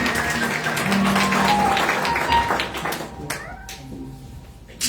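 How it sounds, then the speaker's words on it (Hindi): Congregation clapping at a church New Year meeting, a dense wash of applause filling the first few seconds before thinning out, with voices mixed in. "हमें जोरदार तालियां खुदा की जलाल की खुशी के लिए।"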